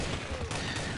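A rapid-fire gun fires on a Counter-Strike 1.6 deathmatch server, a dense stream of shots packed tightly together in a loud, continuous burst.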